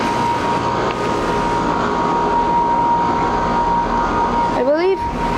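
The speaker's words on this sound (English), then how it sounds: "this is the sound of a train and a carrier running together" A train rumbles past steadily over the hum of a Carrier air conditioning unit running outdoors among many heat pumps, with a whistling, rising horn-like sweep near the end.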